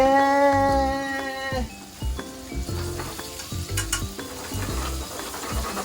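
A pan of frying karaage chicken is shaken back and forth, giving repeated rattling scrapes and a low sizzle after a brief musical chime at the start.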